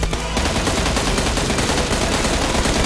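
Sustained automatic gunfire in PUBG Mobile, a loud, dense stream of rapid shots that runs almost continuously after a brief lead-in.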